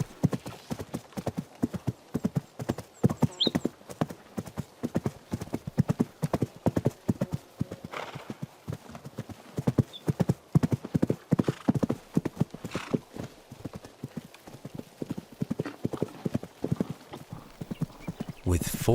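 Horses running free after winter, foals among them, gallop with rapid, uneven hoof clip-clops and an occasional whinny. A voice talks over the hoofbeats.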